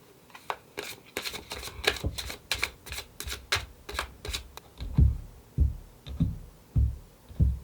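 Tarot cards are shuffled in a quick run of crisp riffling clicks, then drawn and laid down with several softer, heavier thumps spaced about a second apart, close by with no talking.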